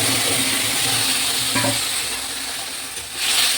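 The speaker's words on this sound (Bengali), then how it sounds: "বন্ধুরা এবার তরকারিটা ঢেলে দেবো।" Vegetable curry with kudri greens goes into a hot pan and sizzles loudly and steadily, with a brief stir and clatter partway through and the frying continuing throughout.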